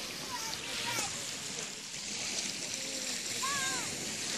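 Sea water washes and splashes against the shore at a Kaliningrad beach, a soft, steady hiss of surf with faint higher voice-like calls drifting over it.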